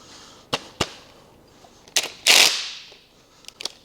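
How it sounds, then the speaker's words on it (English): Pneumatic rattle gun impact wrench loosening tight Allen key bolts on a used motor, heard as a few sharp short bursts, including one longer loud rattle in the middle, with quiet gaps between them. "I decided to put a rattle gun on it"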